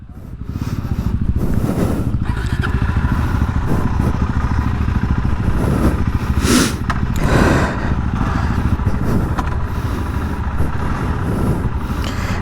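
A Suzuki DR-Z4S motorcycle engine runs steadily up close with a dense, rattling thump that holds at an even level throughout, while a rider talks over it.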